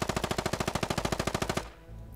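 Rapid automatic rifle fire in the video game Squad, a steady burst of about twenty evenly spaced close, loud shots over one and a half seconds, then a brief fading tail.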